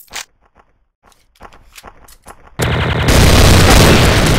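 TMP submachine gun fire in a Special Ops video game match, with scattered footsteps and clicks first, then a loud continuous burst of rapid automatic shots that carries to the end.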